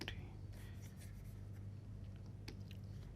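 Physics equations being written by hand on a surface, a soft, continuous scratchy rubbing with a few slightly sharper strokes, faint and close over a steady low hum, with no talking.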